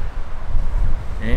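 Strong wind buffets the microphone on the Golfclub Kavel II course in Beemster, a steady low rumble of gusts throughout, with a brief voice entering near the end.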